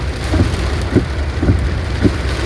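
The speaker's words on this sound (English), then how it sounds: "but this rain is best described as torrential." Torrential rain pours down in Nashville during a road trip, a loud continuous hiss of heavy rainfall with steady, rhythmic low thumps about every half second, and no voices.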